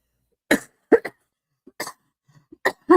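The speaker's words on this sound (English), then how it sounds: "It's so annoying when you're coughing" Six short, sharp human coughs come in irregular bursts, some paired in quick succession, against near silence.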